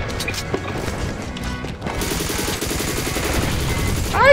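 Rapid machine gun fire rattles in close, loud bursts during ZMR gameplay, with dense bursts of shots and clattering game effects continuing almost without pause.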